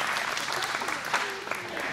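Applause breaks out from the audience at a Democratic congressional candidates' forum, a brief burst of many hands clapping in a hall with a speaker's voice faintly underneath.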